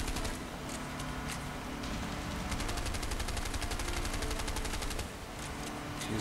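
Sustained rapid gunfire in the video game A Way Out, a dense continuous stream of shots with rhythmic automatic bursts, loud and unbroken for several seconds.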